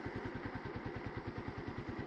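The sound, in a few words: motorcycle engine fitted in an auto-rickshaw, idling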